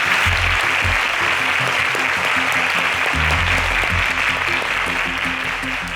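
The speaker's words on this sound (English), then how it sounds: "A round of applause for these amazing contestants." A studio audience applauds quiz contestants on an agricultural quiz show, loud continuous clapping over a low pulsing music bed that runs beneath it.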